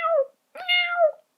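A human voice imitates a mother cat calling her kittens, giving two drawn-out, meow-like cries separated by a short pause, close and clear with no other sound.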